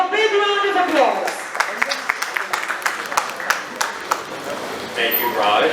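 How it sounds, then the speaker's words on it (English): An audience at a corporate event applauds, with scattered individual claps standing out in an uneven rhythm amid voices and some tonal sound, growing denser again toward the end. "Let's have a big round of applause."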